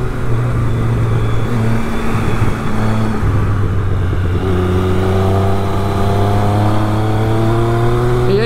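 A 2012 Triumph Speed Triple 1050 motorcycle ridden through bumpy turns, its engine droning steadily then climbing in pitch as the rider accelerates out of a bend, loud and close from the bike itself.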